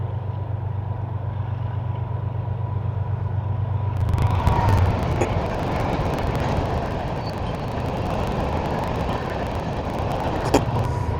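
A long freight train with several engines rumbles past, starting as a low distant drone and swelling to a closer, broadband roar of rolling cars with occasional metallic clanks.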